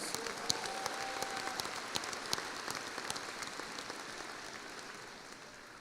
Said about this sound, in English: Can we please give them another big, huge round of applause?